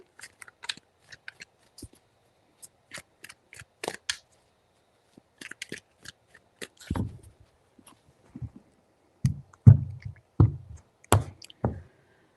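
Tarot cards being shuffled by hand, a quiet, scattered series of light snaps and riffles that grows into a denser, louder burst of card slaps near the end, with no speech.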